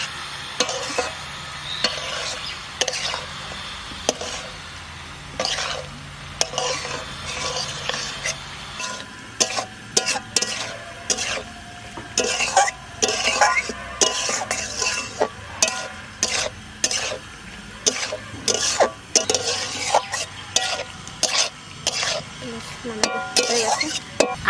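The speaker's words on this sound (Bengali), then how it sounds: "নাড়া দেব" Chilli mushrooms fry in a pan with a soft, steady sizzle while a spoon scrapes and stirs in quick repeated strokes, growing busier over time, with an occasional cough nearby.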